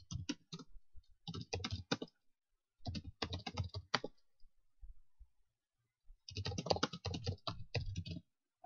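Typing on a computer keyboard in bursts of rapid, close key clicks separated by short pauses, with no talking.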